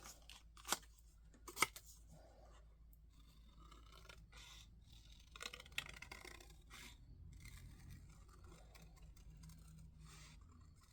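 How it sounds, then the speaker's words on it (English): Scissors fussy cut around a stamped paper image from Stampin' Up!'s In The Grove set, giving a steady close rasping snip with a few sharper clicks early on, quiet and with no talking. "So now we're going to fussy cut it."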